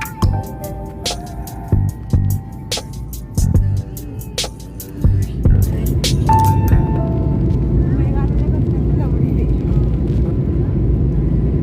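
Steady airplane cabin drone during a flight from Lucknow to Hyderabad, a low continuous engine hum that grows fuller halfway through, with someone talking over it in the first part.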